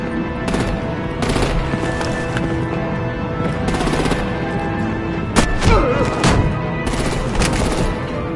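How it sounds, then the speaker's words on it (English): Heavy artillery and automatic gunfire rattle through a battle in Batman: The Enemy Within, a loud, dense barrage of rapid bursts with sharper blasts breaking through. "Break out the artillery and disable their vehicles!"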